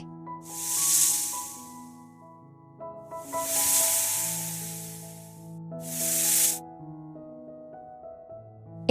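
Three long hissing bursts from a snake, each lasting over a second and separated by short pauses, sitting over a steady musical backing throughout.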